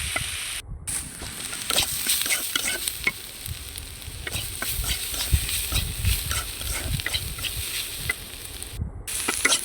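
Potatoes, onions and green chilies, with small fish nearby, sizzle in hot oil while being stirred, giving a steady close frying hiss broken by repeated scraping strokes, with no talk.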